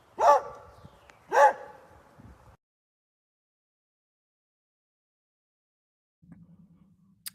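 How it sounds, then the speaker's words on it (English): A dog bark sound effect: two sharp, loud barks about a second apart, each trailing off in a short echo, then silence and a faint low hum near the end. "There is a bark in here."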